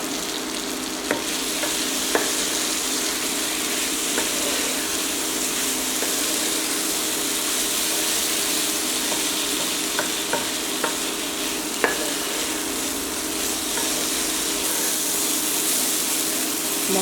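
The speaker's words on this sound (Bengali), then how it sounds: "মশলার সাথে ভেজে রাখা আলু আর সয়াগুলো আমি প্রায় 5 মিনিটের মতো কষিয়ে নিয়েছি।" Fried potatoes and soya chunks are sautéed with spices in a pan, giving a continuous loud sizzle and frying hiss broken by occasional sharp clicks of a stirring utensil scraping the pan.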